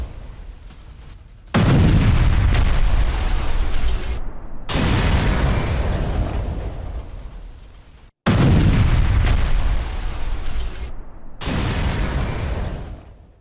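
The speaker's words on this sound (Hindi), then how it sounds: "खेरसौन में रूस की एयर स्ट्राइक की खबर है। खेरसौन में गिराए 4 फैब 500 बम।" Russian air strike in Kherson dropping FAB-500 bombs: heavy, loud blasts hit in two waves, each a sudden deep boom followed by a long rumbling roar that slowly fades, with no voices.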